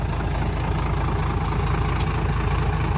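A Kubota L50 tractor engine idles close by with a steady, low, throbbing rumble that holds even throughout, with no voices.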